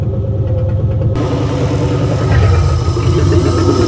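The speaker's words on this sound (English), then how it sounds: "ignore the engine pulsing on and off because I got the laptop hooked up and I haven't fixed that issue with the USB yet" A Ford flathead V8 engine runs close by with a rough low rumble, its note surging and dropping as the engine pulses on and off; no one speaks.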